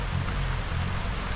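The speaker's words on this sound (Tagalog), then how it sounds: "Tapos umuulan-ulan pa." Rain falling steadily around an outdoor spot near a kubo under construction, a constant broad wash of patter with a low rumble beneath, no voices.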